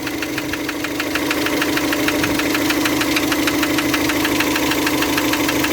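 A 2019 car's running engine with a seized piston, steady rapid metallic knocking repeating throughout, loud and close, with no voices.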